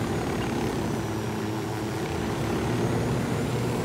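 A helicopter flies in Ghost Recon Wildlands, its engine and rotor making a steady, loud, broadband roar that holds unbroken for the whole stretch with no voices over it.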